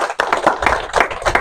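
A church congregation claps rhythmically in unison, about four or five sharp beats per second, loud and close, with no talk.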